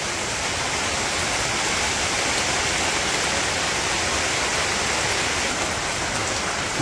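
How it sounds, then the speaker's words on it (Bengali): Heavy rain falling in a dense, steady roar of broadband hiss that stays constant and loud from start to finish, with no voices. "জোরে নেমে গেছে বৃষ্টি"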